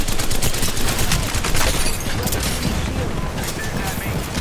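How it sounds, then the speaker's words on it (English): A Knuckle Cluster explosive grenade from Apex Legends goes off as a loud, crackling burst of rapid blasts amid gunfire, the dense popping easing into a rougher rumble over a few seconds, with voices mixed in. "Launching me knuckle cluster."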